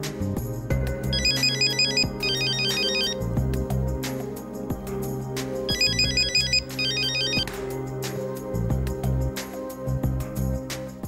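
A phone ringtone plays in repeated electronic bursts over a steady musical tone, fairly quiet and with no talking.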